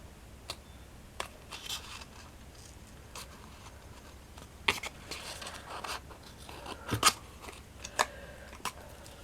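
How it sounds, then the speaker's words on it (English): Scissors snip paper for a small handmade miniature journal booklet, a series of quiet close crisp cuts spaced irregularly against a near-silent room. "I need to just cut that a little bit more"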